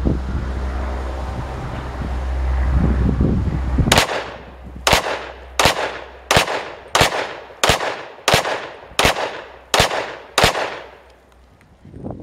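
A Glock 27 pocket pistol fires ten rounds of Winchester Ranger bonded defense ammo outdoors, ten loud sharp reports at a steady, unhurried pace, each with a short decaying echo, after a stretch of wind noise.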